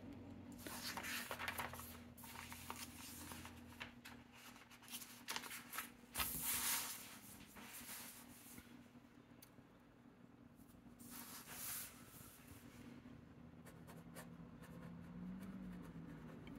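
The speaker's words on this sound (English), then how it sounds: "Now it is writing very well" Maiora Ogiva fountain pen with a medium titanium nib scratching across paper, a steady soft scritching of strokes with slight feedback, close and continuous with brief pauses, over a low constant hum.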